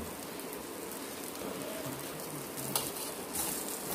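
Food sizzles as it cooks in a pan during a home breakfast, a steady, dense crackling hiss that holds throughout with small pops and no clear voices.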